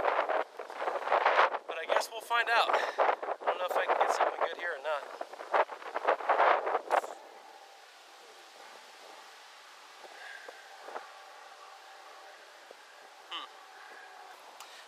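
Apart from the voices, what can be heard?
strong wind at a lake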